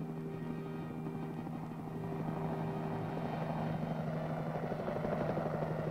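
A steady droning engine with a low rhythmic rotor hum of a military helicopter carrying artillery during the Korean War era, growing slightly louder and rougher over several seconds.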